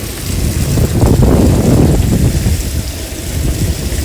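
Steady rain pours down with low rumbling thunder beneath it in a video game, a continuous stormy wash that grows louder in the middle before easing slightly.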